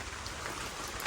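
Rain falling, a soft, steady patter and hiss of drops at moderate distance, with a brief brighter splash near the end and no voices.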